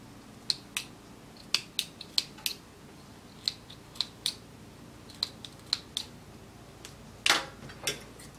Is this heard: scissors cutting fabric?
yes